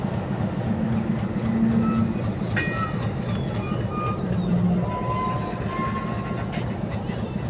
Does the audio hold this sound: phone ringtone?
no